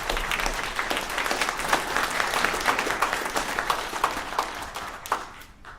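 An audience applauds a brass band at a festival of brass, with dense, sustained clapping from many people that stays loud and even, then eases slightly toward the end.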